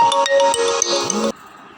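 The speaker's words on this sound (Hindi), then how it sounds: "तो भैया कॉल आ गई थी" A mobile phone ringtone goes off during a lecture, a loud, bright melodic tone sequence with repeated notes that cuts off abruptly partway through, leaving a quiet room.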